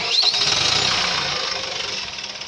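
An engine cranks and catches with a high whine, runs roughly for a couple of seconds, then sputters and fades out.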